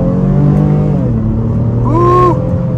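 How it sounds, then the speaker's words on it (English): A 2023 Honda Pilot Touring V6 accelerates hard in first gear, its engine note climbing loud and close inside the cabin before an upshift briefly changes the pitch. "All right, taking a step out here. First gear on the gas."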